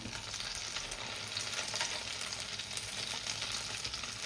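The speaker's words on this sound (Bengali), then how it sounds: "সুন্দর করে মতিগুলো আমার ভাজা হয়ে গেছে।" A soft, even sizzle of paneer balls frying in oil, with fine crackling that stays constant and fairly quiet throughout.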